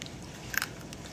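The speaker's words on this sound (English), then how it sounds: "I'm having burnt rice, but like yummy burnt rice," Crunchy toasted burnt rice is bitten and chewed up close, giving a quick cluster of sharp crackles against a quiet background.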